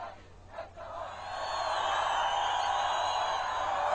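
Huge crowd of Iranian demonstrators at a banned opposition rally in central Tehran, a broad, steady roar of many voices swelling and holding loud after a few brief shouts near the start.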